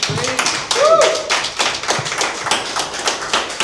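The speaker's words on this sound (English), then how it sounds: "Big round of applause, please." An audience at a social spaces panel discussion applauds with a burst of close, crisp hand claps that thins into scattered taps, with a voice speaking over it.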